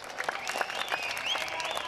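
An audience at a live music show claps in a dense, continuous burst of applause, with faint crowd noise and whistle-like tones mixed in.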